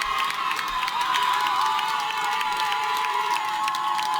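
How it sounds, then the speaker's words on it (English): Protesters at the Barclays Center cheering, a steady distant crowd roar with scattered shouts and whoops, recorded from a short way off. "So people are all cheering."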